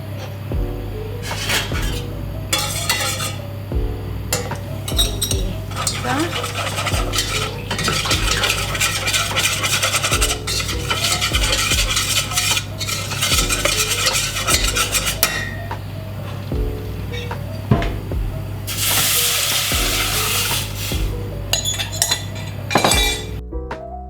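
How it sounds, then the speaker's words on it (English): Metal spoon scraping and clinking steadily around a pot of meatloaf sauce made with Worcester sauce, salt, pepper, garlic and onion powder, busy continuous stirring close up with a low steady hum beneath, no voices. "Gonna keep stirring that until it's boiled"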